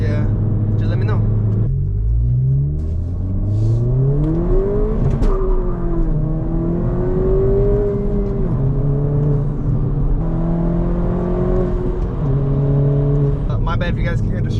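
Inside a 2022 Honda Civic Si on a rough, broken street, steady engine drone rises and falls through gear changes over constant rumbling road noise, with someone talking over it.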